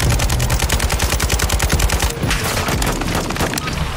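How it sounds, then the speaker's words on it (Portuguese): Rapid automatic gunfire in Call of Duty Warzone 2.0 rattles out in a fast, loud, even burst, then pauses briefly before a second run of shots takes over. "Tem algum atirando em mim"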